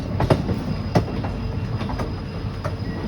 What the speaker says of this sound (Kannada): ಮೇನ್ ಲೈನಿಗೆ ಟ್ರೈನ್ ಬಂತು